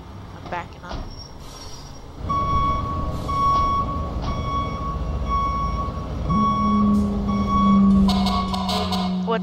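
A fire truck's reversing alarm beeps steadily at an even pace above loud engine rumble, and a rising siren wail joins near the end.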